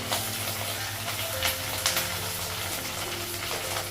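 Tomatoes hit a pan of frying rice and spices and crackle in a steady close sizzle, with brief stirring scrapes over a low hum.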